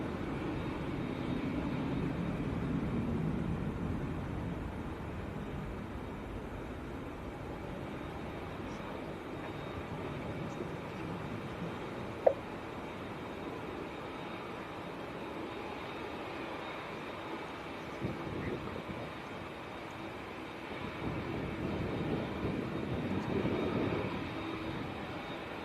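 An ex-TUI Belgium airliner moving at Manchester Airport before heading to Fuerteventura, its jet engine rumble fairly faint and distant, swelling at the start and again toward the end, with a couple of sharp clicks between.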